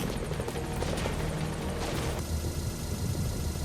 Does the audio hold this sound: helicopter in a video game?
yes